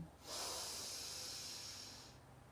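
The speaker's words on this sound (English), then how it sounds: "Sedative breathing is to breathe in for 4 very quickly, and then a long, slow breathe out." A quick, forceful inhale through the nose during a sedative breathing exercise, heard up close as a single steady breathy hiss lasting about two seconds.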